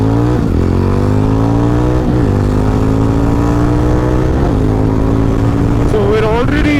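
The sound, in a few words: Jawa 350 motorcycle accelerating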